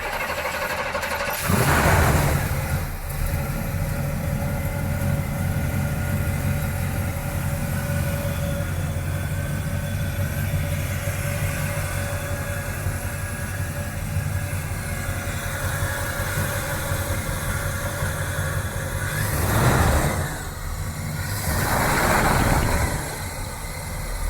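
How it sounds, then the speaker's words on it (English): A 1967 Pontiac GTO with an electric choke cranks and fires up, then settles into a steady rumbling idle, with a couple of brief revs later on, close and loud. "the engine fires up and maintains idle right away"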